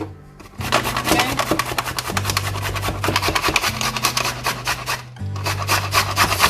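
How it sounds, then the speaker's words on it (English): Carrots being grated on a hand grater in a home kitchen, a steady run of quick rasping strokes, close and fairly loud, with a low hum underneath and a brief pause near the end. "So we are grating and grating."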